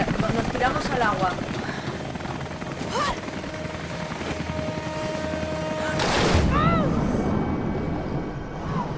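A helicopter flies overhead in the video game Rise of the Tomb Raider, its steady rotor drone loud beneath bursts of game effects and swelling near the end, with a player talking over it.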